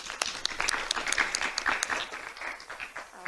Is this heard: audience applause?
yes